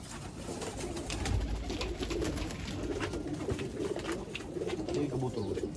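Malang breed pigeons coo in soft, rolling calls over a low background murmur, with faint voices nearby.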